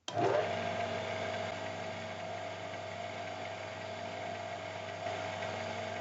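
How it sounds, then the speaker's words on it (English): A lathe bores a hole through a rubber piece for a dirt bike radiator fitting, giving a steady, even mechanical whir with a faint rattling hum that starts abruptly and runs on without a break. "So I'll give it a shot one-handing the lathe."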